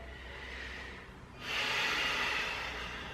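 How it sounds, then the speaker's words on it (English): Slow, soft breathing during a mindfulness exercise, a faint inhale followed by a longer, airy hissing exhale, close and quiet with no talking. "Follow your breath. Inhaling and exhaling."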